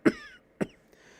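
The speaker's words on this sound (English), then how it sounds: "Grandpa shrugged and coughed again." Two short, fairly loud coughs about half a second apart from an elderly man, the second slightly weaker, each followed by brief quiet, with no talking.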